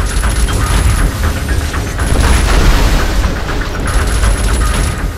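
Grenade launcher explosions in the shooter game Alien Rage, a loud, dense stream of booms and bursts that rumble continuously, with faint high electronic tones recurring over the barrage.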